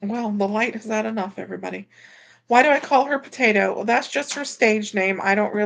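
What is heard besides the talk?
No distinct noise like a dog, phone or traffic.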